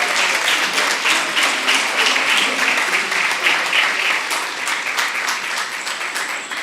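Loud, sustained applause from a large crowd at a school board meeting, dense clapping that stays even and then tapers slightly toward the end.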